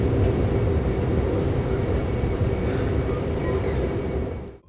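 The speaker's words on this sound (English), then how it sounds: "train is now moving and the race has begun" A passenger train sets off with a deep, continuous rumble, heavy and close, holding steady before cutting off abruptly at the end.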